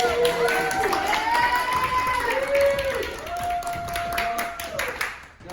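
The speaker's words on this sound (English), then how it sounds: "Round of applause." A round of applause from the jury and audience at a Survivor finale, with sustained clapping mixed with cheers and whoops that gradually tapers off.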